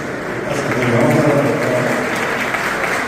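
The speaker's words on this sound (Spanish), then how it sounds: "que retumben esos aplausos" An audience applauds warmly for Tina Grance at a festival of Paraguayan duos, a continuous dense patter of clapping hands that swells slightly and holds steady.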